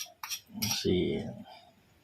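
A utensil scrapes and clinks through a home-cooked Ilocano pulutan seasoned with Iloko vinegar and salt, making a few short metallic clinks followed by a louder scraping swirl, close and brief.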